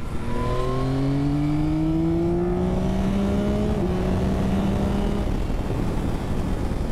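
A 2024 Yamaha XSR900 GP retro motorcycle with a tuned airbox pulls hard, its engine note rising steadily through the revs in a loud, continuous intake growl, close up with wind roar and no talking.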